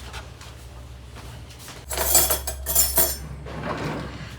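Utensils clink and scrape against a bowl while ingredients are mixed by hand, a few bright knocks and rattles clustered in the middle over a low background hum.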